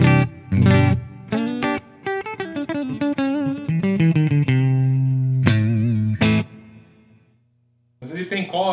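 An electric guitar played through a Marshall MG100DFX combo amp, dry apart from a light digital reverb, rings out in sustained chords and single notes, fairly loud and alone, with a short gap before playing resumes.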